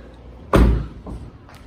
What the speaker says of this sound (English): I'm gonna shut this door so you can get a better look at the car.